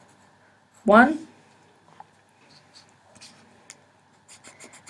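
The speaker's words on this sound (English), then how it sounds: "We're going to write berm" A brief spoken word comes first, then a hand writes a label on a paper sand dune profile diagram, with faint, intermittent scratches of the pen close by.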